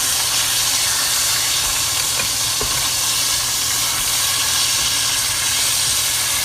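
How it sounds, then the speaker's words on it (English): Constant loud sizzling and hissing of chicken frying on high heat in a hot pan, a dense crackle that doesn't let up. "you're just gonna let that sizzle on high till you start to see it get brown"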